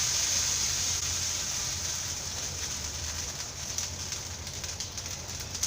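Kallappam batter poured onto a hot griddle over a medium flame sizzles with a steady, close crackling hiss that fades slightly as it goes on.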